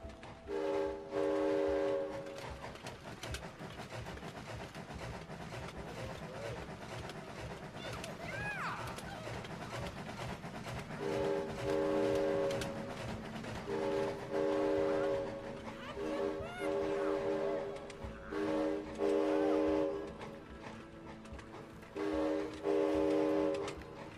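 Train driven in the video game It Takes Two, rumbling on the rails while its horn blasts in repeated bursts, with players talking over the noise.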